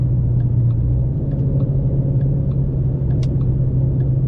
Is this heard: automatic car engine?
yes